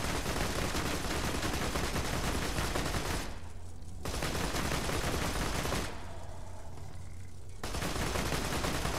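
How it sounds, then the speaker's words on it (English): Rapid bursts of automatic gunfire in the shooter Borderlands 2, loud and close, in two long volleys broken by brief lulls, with no voices. "I believe something else is shooting at them too"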